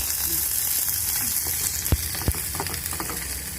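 Mustard seeds, dried red chillies and curry leaves sizzle in hot oil with a dense, bright hiss, crackling throughout, and two sharp pops stand out near the middle.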